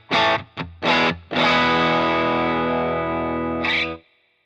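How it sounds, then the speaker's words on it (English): An electric guitar through a low-gain overdrive pedal, with a few short choppy strums and then a long ringing chord that sustains loud and gritty before cutting off. "So it's a fairly low gain overdrive pedal this"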